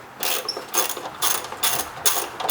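A hand ratchet loosening bolts on the air intake and fuse box area of a 1993–1997 Toyota Corolla, several bursts of rapid clicking pawl strokes in an uneven rhythm, close and fairly loud.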